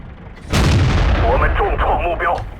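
A WZ-131 light tank fires an armour-piercing round in World of Tanks: one sharp, loud cannon blast that booms and rings out over a running engine hum, with brief whining tones following.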